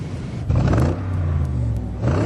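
A 2003 Range Rover L322 Overfinch 580S engine revs in sport mode while driving off-road, a loud steady rumble and whir that climbs in pitch midway and holds, close and continuous with no talk.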